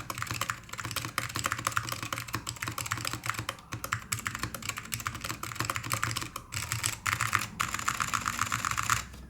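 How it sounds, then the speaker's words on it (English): Custom mechanical keyboard from a Caerdroia build, typed on in a fast, continuous stream of crisp, close key clacks with a few brief pauses, loud and alone with no talking. "Listen how different this spacebar is, by the way."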